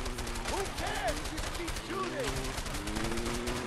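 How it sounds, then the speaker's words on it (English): Rapid gunfire rattles continuously in the video game A Way Out, with quick repeated shots layered under voices and other game sounds. "I'm shooting now"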